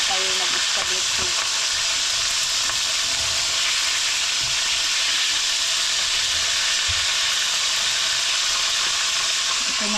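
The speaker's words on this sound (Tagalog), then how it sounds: "Ito na lang yung ating piprituhin." Fish fries in a pan of hot oil for a home meal, a loud, steady sizzle and hiss that continues unbroken and close by, with no voices.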